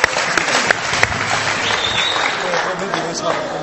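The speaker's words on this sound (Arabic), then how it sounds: "تصفيق على سمير لوسيف وحمدي الكسراوي." Audience applause for Samir Loussif and Hamdi Kasraoui at a celebration of Espérance Sportive de Tunis winning the Tunisian championship: loud, dense, sustained clapping from a crowd, steady throughout with a few sharper claps on top.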